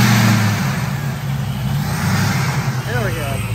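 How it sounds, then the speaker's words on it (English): A car fitted with a newly installed Vortech supercharger pulls away, its engine droning steadily with a rising rev, loud and close throughout. "We're gonna take it for a quick test drive around the neighborhood and see what happens."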